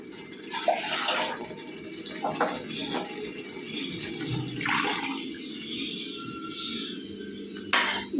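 Water poured into a pot of mutton khatta curry, a steady splashing pour running through most of the stretch with a brief louder splash near the end, close by.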